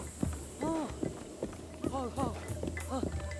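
Horse hooves clopping at a run in Zelda: Breath of the Wild, a handful of irregular thuds mixed with harmonic horse whinnies or calls and a low droning game background, fairly close and moderately loud.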